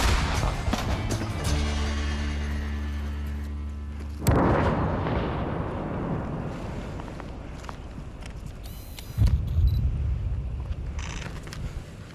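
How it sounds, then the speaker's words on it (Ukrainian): Two heavy artillery-like blasts a few seconds apart, each a sharp loud boom trailing into rumbling noise, with a low engine drone beforehand. "Постріл!"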